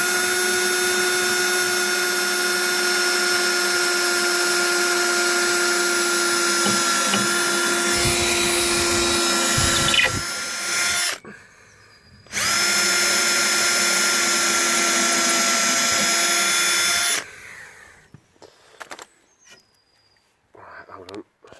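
A power drill with a 4.5mm bit whines loudly at close range as it bores through scaffold boards, stopping briefly, starting again, then cutting off into quiet handling noises.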